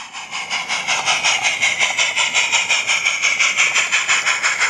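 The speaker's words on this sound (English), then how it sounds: "No. 4 can proceed onwards down the line with its brake van." Light railway locomotive No. 4 runs along the line hauling a brake van, giving a loud, steady, rhythmic chuffing beat at an even pace with no talking.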